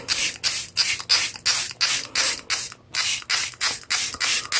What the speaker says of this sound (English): So this is a little misting bottle. Filled it with some water. And you just press it and it sprays.